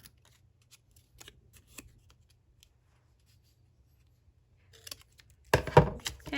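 Scissors cutting paper pieces for a handmade Christmas mini album, with faint scattered snips followed by a louder close burst of crisp cutting and rustling paper near the end.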